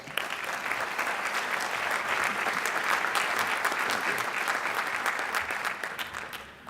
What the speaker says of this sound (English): Let's give a round of applause for our mayor of Boston